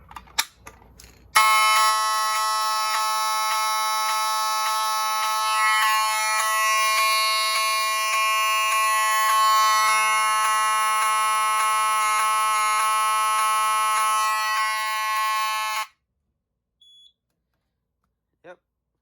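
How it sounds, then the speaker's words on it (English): An Edwards fire alarm with a 7002T mechanical horn blares continuously for about fourteen seconds after a pull station is pulled, a harsh, steady, loud buzzing tone that stops abruptly, followed by brief quiet clicks. "let's pull the pull station, and let's hear an alarm, and it is set on continuous"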